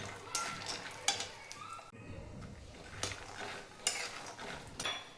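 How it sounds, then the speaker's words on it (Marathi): Ingredients for poha ladoo roast in ghee while a spoon stirs them, with soft scraping strokes against the pan every second or so over a faint sizzle. "1 मिनिटच भाजायचे आहेत. तुपामध्येच भाजून घ्यायचे आहेत."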